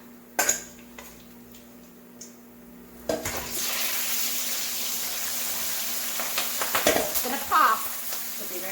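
Chicken with kaffir lime leaves goes into hot oil under a splatter guard. A few clanks of cookware come first, then a loud, steady sizzle of frying takes over, with occasional utensil clinks.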